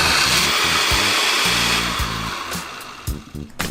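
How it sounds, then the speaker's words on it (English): A kitchen blender liquefies a cooked beef curry base into puree, a loud sustained motor whir with shifting pitch as the mixture churns, easing off and stopping near the end. "We're gonna take this over to the blender."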